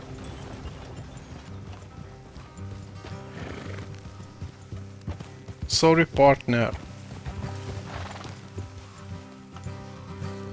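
A horse whinnies loudly midway through in Red Dead Redemption 2, with hoofbeats and game music around it and someone speaking briefly.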